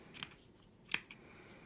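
Two crisp snips of scissors cutting through layered fabric scraps for pompoms, close and fairly quiet, separated by a brief pause with a faint third click after the second cut.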